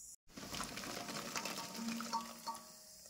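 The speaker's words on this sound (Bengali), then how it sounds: "হয়ে গেছে, এবার গরম জল অল্প অ্যাড করে দিই।" Hot water pours into jaggery in a pot while plum pickle is being made, giving a splashing, gurgling liquid stream after a brief silent gap, fairly close and steady with no voices.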